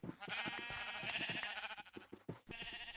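Minecraft sheep bleating in quick, nasal, wavering cries, several overlapping calls close and clear over a quiet game background, with no talking.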